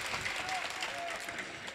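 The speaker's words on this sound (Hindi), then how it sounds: "एक बार जोरदार तालियां बजा दे" A crowd claps in steady, dense applause at a mushaira poetry gathering in Bihar, continuous and fairly loud for a short burst.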